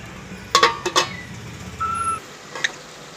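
A metal lid is set on a pot of mutton curry in a home kitchen, giving two quick close clinks followed by a brief faint ring. The room is otherwise quiet.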